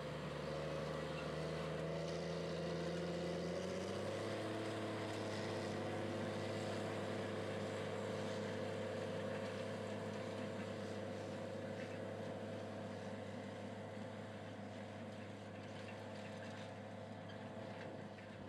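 A heavy Challenger tractor engine drones steadily, pulling a 25-foot Sunflower 6630 Saber vertical tillage tool through a field in Western Kentucky, shifting down to a lower constant hum as it works, with faint mechanical rattle throughout and no voices.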